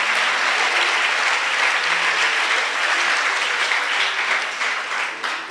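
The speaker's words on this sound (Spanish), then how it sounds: "Dele un aplauso al Señor con todo su corazón." Sustained congregation applause in a church, a loud, dense, even roar of many hands clapping throughout, tailing off slightly at the very end.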